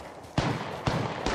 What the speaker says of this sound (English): Throwing jump pad.